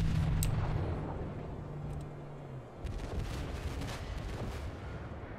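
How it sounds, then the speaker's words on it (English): Aoba Japanese heavy cruiser's 8-inch guns in World of Warships fire in heavy booming reports over a constant low rumble of sea and engine noise, with a steady hum fading out midway. "I love these 8-inch guns, man."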